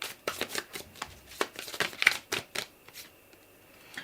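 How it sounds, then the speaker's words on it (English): Tarot cards being shuffled by hand, a quick run of soft riffling flutters and taps that thin out toward the end, close and clear with no talking. "let us use the Unicorn Tarot to see what comes through."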